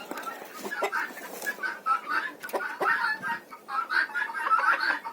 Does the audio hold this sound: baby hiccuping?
no